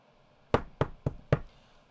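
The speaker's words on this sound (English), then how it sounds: "Was that a knock at the door?" Four sharp, evenly spaced knocks on a door, close and distinct, in a quiet room with no talking.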